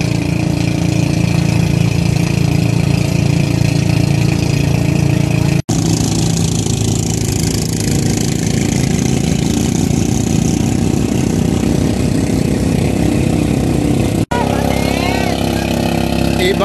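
A boat motor drones steadily and loudly throughout during island hopping at Nasugbu, with two brief cuts where the sound jumps, and no clear talking.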